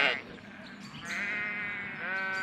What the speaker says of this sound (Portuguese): As ovelhas são animais muito gentis e foram os primeiros animais a serem domesticados.